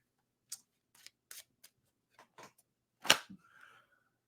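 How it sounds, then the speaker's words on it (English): Tarot cards are shuffled in a few short, crisp riffles and slides, separated by quiet pauses, close and soft. "Let's shuffle here."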